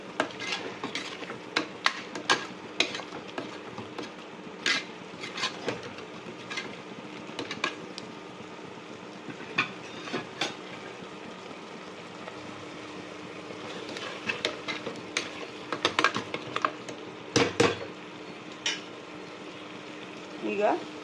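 Spiced masala paste for Karnataka-style tomato bath cooks in a pan while a utensil clinks and scrapes through it, giving intermittent metallic taps and stirring scrapes over a faint steady background.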